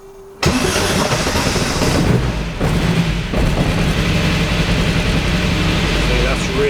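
A modified Austin Mk1 with an Arden 8-port cylinder head cranks and fires after a brief quiet moment, then settles into a loud, rough, lumpy running note close by.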